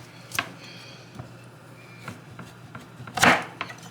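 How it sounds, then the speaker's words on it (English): A knife cuts cassava into small pieces on a board, giving scattered sharp chops and taps with one louder crunching cut near the end, close up and with no speech. "just making small pieces to make it easier to blend in the blender"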